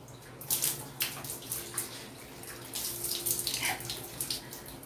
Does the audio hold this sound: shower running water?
yes